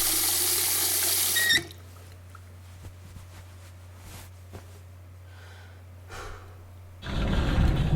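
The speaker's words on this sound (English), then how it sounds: "I have one recording for the water, one for the squeaky faucet, one for the towel" A faucet runs loudly at the start and cuts off, then quiet rubbing and faint squeaks follow before the water gushes on again near the end, with no talking.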